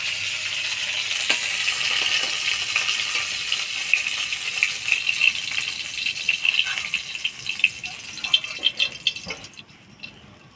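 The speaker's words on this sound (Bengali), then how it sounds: "মাছ ভাজা হয়ে গেছে, এবার তুলে নিব" Pieces of katla fish fry in hot oil in a home kitchen, giving a steady, bright hiss and crackle that runs throughout and fades slightly near the end, with no talk.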